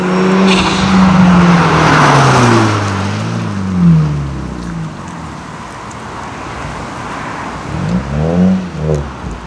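A GTI car's engine revs up loudly and falls back, then settles into a lower rumble before a second, shorter burst of revving, all close by with no talk.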